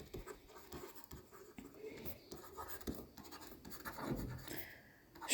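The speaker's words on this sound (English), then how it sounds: "I'm just going to write that down" Pen writing on paper gives quiet, scratchy strokes in short bursts, close to the microphone, with faint breathing and low background noise.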